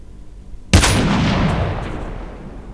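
A single sharp, loud sniper rifle shot in Call of Duty Mobile battle royale, cracking suddenly after quiet and rolling out into a long, booming decay with no talk over it.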